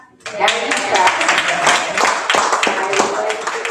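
An audience at a school district board meeting clapping, a short burst of applause starting abruptly and continuing steadily, with a voice talking over it.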